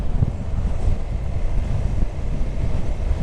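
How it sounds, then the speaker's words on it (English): Wind buffets a GoPro microphone on a moving Honda CB300R motorcycle, a steady loud low roar running for the whole stretch with no talk over it. "Could do with a little less wind"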